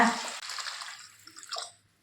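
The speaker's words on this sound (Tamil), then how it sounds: "இப்போ அரிசி முங்குற அளவுக்கு தண்ணி சேர்த்துக்கோங்க" Water is poured into a bowl of washed, drained rice until the grains are submerged, while making a breakfast dish. A steady, close splashing pour runs for under two seconds, then tapers off and stops.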